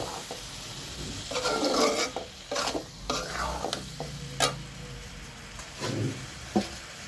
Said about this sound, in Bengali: আমি এখন ধুয়ে রাখা ব্যবসাগুলো দিয়ে দিচ্ছি দিয়ে ভালো করে নেড়ে চেড়ে কষিয়ে নেব